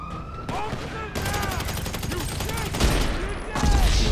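Gunfire and police sirens in the video game GTA Online ring out together: dense rapid shooting bursts over wailing sirens, loud and close, with a few abrupt shifts in intensity and a heavy thump near the end.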